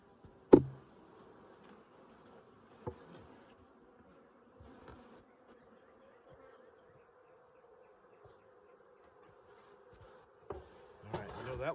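Honey bees buzz faintly around an opened beehive during honey extraction, a soft steady drone with a few brief bumps and knocks from handling the frames.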